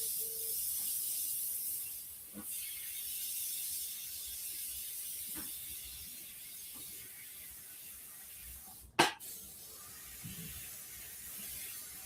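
An airbrush sprays paint while shading an Eye of Ra artwork, a steady faint hiss running throughout, broken by a few soft clicks and one sharp, louder click near the end.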